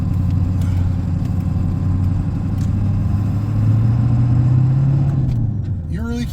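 Vintage diesel truck pulling out in first gear, a loud low engine drone with a steady throb that rises slightly in pitch as it moves off; a voice speaks briefly at the end.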